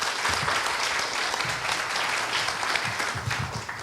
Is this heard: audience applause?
yes